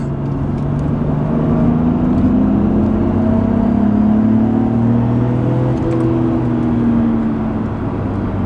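Steady loud engine drone from inside a moving R32 Nissan Skyline GT-R, the pitch rising and falling as it accelerates and shifts, with constant road rumble.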